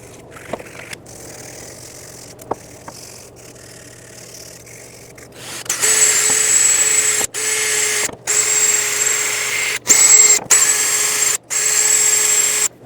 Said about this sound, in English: consider sanding it down